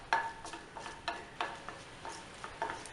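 Cashew nuts being stirred in a frying pan, a spoon scraping and tapping the metal in a steady rhythm of soft clinks, close by and alone.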